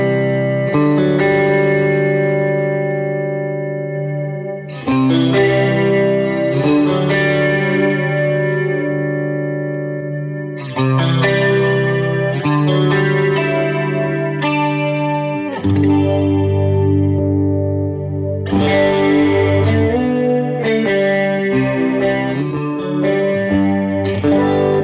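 Electric guitar played through a micro pitch effect and then an H9 tri-chorus effect, sustained chords and arpeggiated phrases shimmering with chorus and delay, loud and continuous with brief pauses between phrases, no talking.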